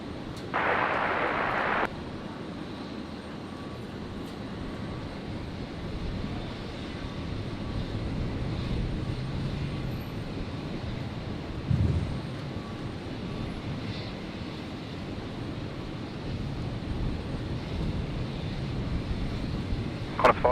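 A Qantas airliner landing at Brisbane Airport sounds as a distant, steady jet engine roar. The drone stays low and continuous for a long stretch, with wind buffeting and a brief radio chatter burst near the start.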